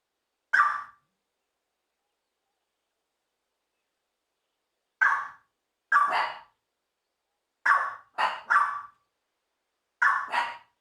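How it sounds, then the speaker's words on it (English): Dogs barking in short bursts: a single bark, a long pause, then quick pairs and triplets of sharp barks, fairly close and alone with no talk. "That's right, dogs."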